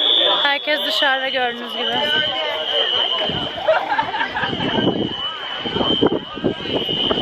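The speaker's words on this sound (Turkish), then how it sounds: "Yangın alarmı çaldığı anda herkesin dışarı çıkması gerekiyor" A building fire alarm emits a continuous, piercing high-pitched tone throughout while people talk loudly near the microphone and crowd chatter fills the background outdoors.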